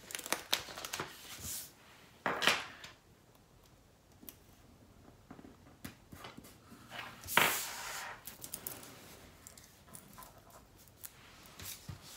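Stickers being handled and peeled from a sticker binder: sharp crinkles and papery rustles come in separate bursts, with a couple of louder crackles among quieter taps and faint handling noise.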